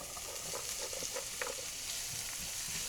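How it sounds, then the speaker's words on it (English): Vidalia onion sizzling in a cast iron pan, a steady bright hiss with light stirring scrapes throughout, close and continuous, no talking. "now we are going to add our little onions,"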